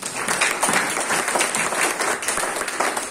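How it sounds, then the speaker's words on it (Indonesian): A congregation at a Sunday worship service at a theological college claps steadily. The dense applause holds at an even level for about three seconds, with no voice standing out. "tepuk tangan bagi dia."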